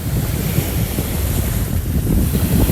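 Sea waves and steady wind at Sai Kaew beach in Sattahip, Thailand, a continuous loud surf wash with wind buffeting the microphone throughout, no voices.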